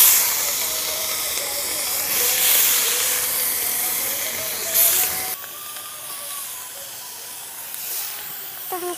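Fish frying in hot oil over a fire, giving a steady loud sizzling hiss that quiets partway through, with faint talk underneath.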